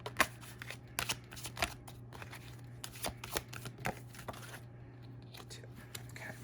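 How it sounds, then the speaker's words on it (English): Tarot cards are shuffled and drawn in a quiet room, with a close, soft run of papery riffles and flicks and a few sharper snaps, alone without talk. "3 more cards for Taurus, please. 2 more cards."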